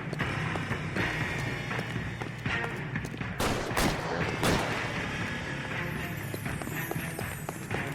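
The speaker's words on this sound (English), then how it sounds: "What's with all the firecrackers?" Rapid crackling pops and bangs burst repeatedly over a busy, noisy background, like strings of firecrackers going off in the game L.A. Noire.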